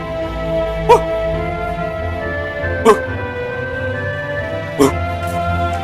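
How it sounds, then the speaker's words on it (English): A small dog gives three short excited barks spaced about two seconds apart, set over a steady bed of cartoon-style background music. "Lula began to bark excitedly"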